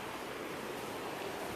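A raging river rushes past at close range beside a snowy camp near Bansko, Bulgaria, as a loud, constant roar of churning water fills the moment with no voices.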